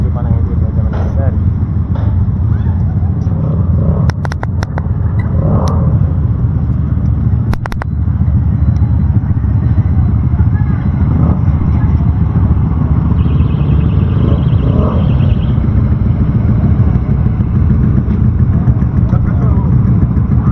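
A motorcycle engine idles while warming up before a morning ride toward Kuala Terengganu, giving a steady, loud, close rumble that runs unbroken throughout, with a few sharp clicks and knocks.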